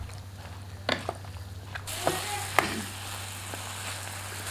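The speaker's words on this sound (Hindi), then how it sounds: "इसको 5 मिनट तक फ्राई करेंगे अच्छे से।" Salted chickpeas (chole) sizzling in a pan for chana chaat, a steady crackling fry that swells louder midway, with a few faint clinks of stirring.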